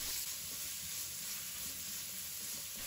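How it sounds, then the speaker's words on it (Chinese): Pork belly sizzling in hot oil in a wok, a steady dense crackle and hiss that holds evenly throughout, close and fairly loud with no voices. "我们把五花肉倒入锅中，把它炒出油脂"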